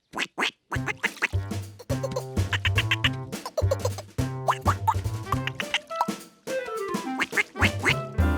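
Cartoon ducks quack over and over in quick, bouncy bursts, loud and close, mixed with playful plops and boings and no talking.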